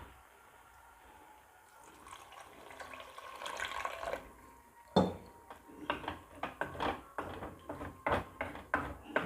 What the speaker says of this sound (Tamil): அதோட தேவையான அளவு தண்ணி சேர்த்துக்குவோம்